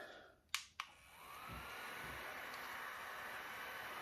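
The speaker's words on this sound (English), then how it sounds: "this is the mini neck fan" A small mini neck fan clicks twice as it is switched on, then settles into a soft, steady airy whir that holds evenly close to the microphone.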